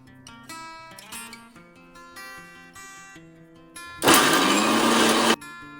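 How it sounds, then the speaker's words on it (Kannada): A kitchen mixer grinder grinds a spice paste for sambar. A loud, steady whirring roar runs for about a second and a half, after several seconds of quieter clinking and handling sounds. "ಮಿಕ್ಸಿನಲ್ಲಿ ರುಬ್ಕೊಂಡೆಲ್ಲ ಆಗಿದೆ."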